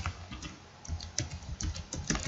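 Rapid, steady keystrokes on a computer keyboard while text is entered into an Excel attendance sheet, heard up close and alone.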